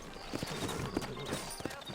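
Horse hooves clip-clopping in Red Dead Redemption, a close, uneven patter of steps on hard ground at a steady walking pace, fairly quiet, with faint ambient noise and no clear speech.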